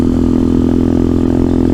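Motorcycle engine in a modded video game, a short-wheelbase bike giving a steady, loud, close droning hum with an even rhythmic pulse and no break.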